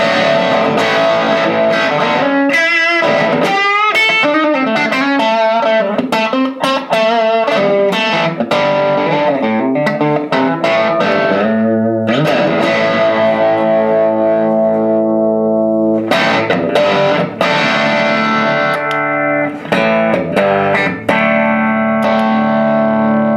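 A Bogner Ecstasy Blue overdrive pedal in plexi mode, with an overdriven electric guitar playing a loud, busy run of picked notes and chords. Brief pauses break up the riffing, and nobody speaks.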